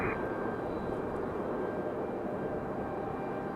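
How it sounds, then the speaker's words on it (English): Boeing 737 MAX 9 airliner arriving at Raleigh Durham from Panama City, a steady faint distant engine roar with no talk. "coming in from Panama City on this 737 MAX 9"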